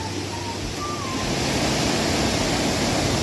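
The Shifen waterfall in Taiwan gives a loud, steady, broadband roar of falling water that fills the whole clip without a break, with no talk.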